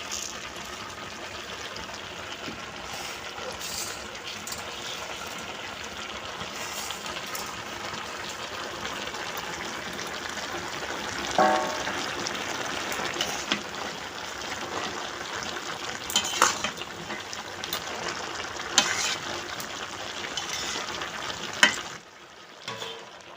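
Fried moong dal stirred into mixed vegetables sizzles and fries in a pan, a soft, steady crackle with occasional scrapes of stirring and small splashy bursts, fairly quiet and close throughout.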